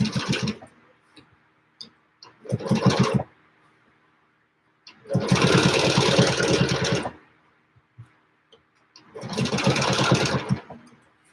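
A sewing machine quilts a geometric meander design, running in four separate bursts of varying length with short pauses between them, close and fairly loud with no talking.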